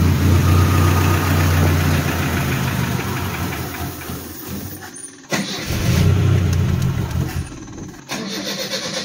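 A 1975 Chevy LUV running for the first time in years has no clutch and shows a charging light. The engine cranks and catches into a loud, rough, knocking idle, then cuts out briefly and restarts twice.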